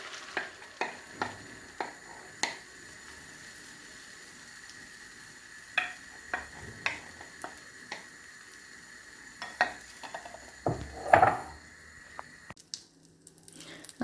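Beaten eggs for a Spanish omelette go into hot oil in a pan, giving soft sizzling under scattered clicks and scrapes of a utensil against the pan, fairly quiet and close.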